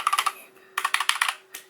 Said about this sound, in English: So sounds pretty loud when I type,